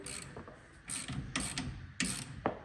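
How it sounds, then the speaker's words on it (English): Ratchet wrench clicking in short bursts while pinch nuts are tightened on the new air-ride front suspension of a 1957 oval-window Volkswagen Beetle; close, fairly quiet workshop sound with three or four distinct ratcheting spells and no talk. "tighten these pinch nuts down all the way"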